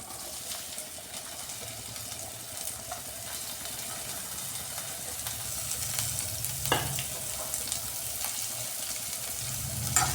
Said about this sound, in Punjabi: ਤੇਲ ਵਿੱਚ ਪਾਵਾਂਗੇ ਜੀਰਾ ਨਾਲ ਹੀ ਪਾ ਦਾਂਗੇ ਕੱਟੇ ਹੋਏ ਪਿਆਜ਼